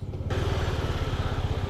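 A motorcycle engine rumbles close by as bikers arrive at the Khardung La meeting spot in Ladakh, starting abruptly and holding a steady, pulsing low throb for under two seconds.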